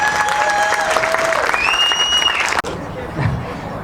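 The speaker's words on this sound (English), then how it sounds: "please give a round of applause for Barbara" Applause for Barbara at an employee appreciation party, loud clapping with whistles and cheers that cuts off abruptly, leaving quieter room murmur afterward.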